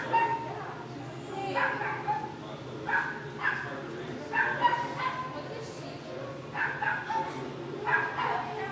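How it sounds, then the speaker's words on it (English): A Shiba Inu puppy gives a series of short, high yips and small barks in bursts, close by, with people talking softly around it. "Such a cute little puppy."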